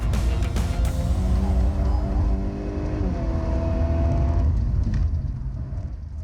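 A Volkswagen driven hard on a race track by a test driver, engine revving and pulling steadily through the gears, loud and close for several seconds with no talking.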